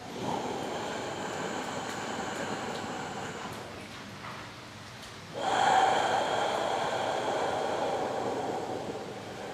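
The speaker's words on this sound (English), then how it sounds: "Try to expand more with each breath." Slow, deep breaths drawn in and pushed out through the nose during a fighters' breathing exercise, a long airy rush that fades to near quiet, then a forceful loud exhale that tapers off.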